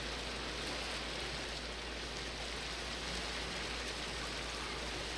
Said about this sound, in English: Oh joy, rain.